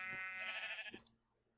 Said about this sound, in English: How am I gonna get rid of all these sheep, man?